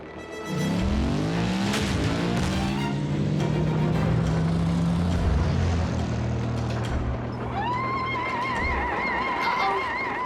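An animated robot transforms into a motorcycle in the Transformers: Prime cartoon, giving a loud, continuous engine roar that climbs in pitch and then settles into a steady high whine toward the end.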